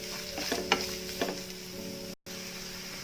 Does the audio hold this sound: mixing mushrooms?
yes